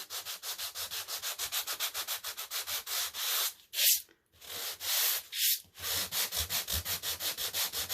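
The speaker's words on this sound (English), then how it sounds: "this sanding block is resting on this surface. And I'm sliding it back and forth." Steady back-and-forth scraping of a sanding block on a painted surface, in quick regular strokes, close and loud, with a couple of brief pauses.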